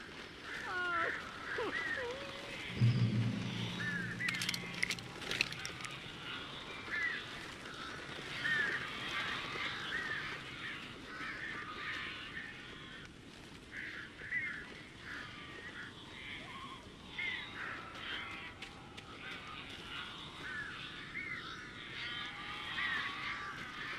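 Birds in the video game Alan Wake caw and screech in scattered bursts over a murky ambient background, with a low grunting sound early on and a voice speaking briefly.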